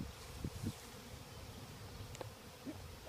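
Honey bees from a Colorado bee company hum faintly around an open hive with its lids removed, a low, steady drone with a few brief louder passes close by.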